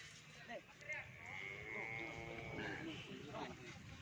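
A small cow calf gives a drawn-out, wavering bleating moo near the middle, fairly faint, with people talking around it.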